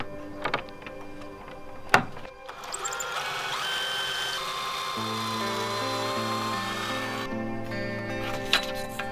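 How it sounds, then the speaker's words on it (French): Power drill boring angled holes into a wooden batten: a couple of sharp knocks, then a sustained whining motor drone that shifts pitch as the bit bites into the wood, fairly quiet and close, with no speech. "Plus qu'à venir faire mon perçage biais des deux côtés sur ce tasseau-là."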